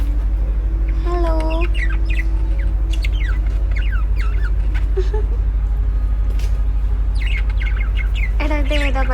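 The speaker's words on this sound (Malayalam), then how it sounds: "ലവ് ബേർഡ്സാ തോന്നുന്നുണ്ട്." Lovebirds in a cage give scattered high chirps and tweets, some in quick bursts, fairly close over a steady low hum.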